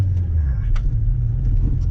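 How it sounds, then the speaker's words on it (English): A Toyota MR2 engine blips and rises in revs during a rev-matched downshift, a loud close rumble from inside the car lasting a couple of seconds. "That's a beautiful rev match"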